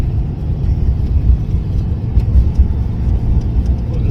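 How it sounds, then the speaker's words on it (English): A 1992 Ford Mustang GT drives along a street, its engine giving a steady low rumble and road noise from inside the car, loud and continuous with no talking. "It feels really good to drive this car."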